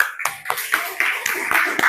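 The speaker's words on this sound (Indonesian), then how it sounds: "Kasih tepuk tangannya ya" A small group claps hands in quick, slightly uneven bursts, close and moderately loud, for a little under two seconds.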